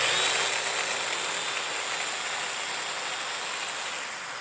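A corded Festool Domino DF 500 joiner runs alone with its attachments fitted, a steady high motor whine and airy hiss that holds fairly level and slowly tapers off near the end.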